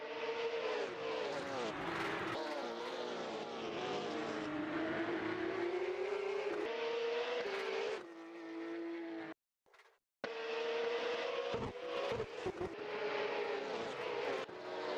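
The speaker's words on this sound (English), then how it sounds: "this is Assetto Corsa friends driving 911 cars with fixed setup on Monaco." Porsche 911 race cars screaming around the Monaco street circuit in the video game Assetto Corsa, engine notes rising and falling through gear changes, loud and close, with a brief near-silent break partway.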